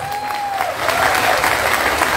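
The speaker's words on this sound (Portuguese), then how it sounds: "uma salva de palmas" A crowd at a Brazilian municipal event applauds to welcome a priest, loud close clapping from many people that swells and continues steadily, with a brief whistle-like tone over the opening.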